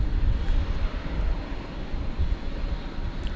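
Aircraft engine noise from UPS flight operations at DFW Airport, a steady low broadband rumble heard from a distance with no talk over it.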